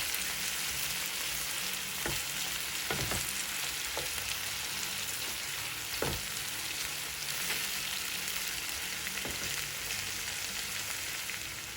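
Tomato puree is stirred into a cauliflower masala curry in a hot pan, giving a steady continuous sizzle with a few soft knocks of the spoon against the pan scattered through it.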